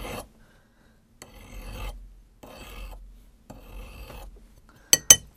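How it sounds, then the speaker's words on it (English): A hand file scrapes a S&W 1917 revolver hand clamped in a vise in four separate short, soft rasping strokes with pauses between, followed by two sharp metallic clicks. "I'm just going to file off of this. Just a little bit, couple swipes with the file"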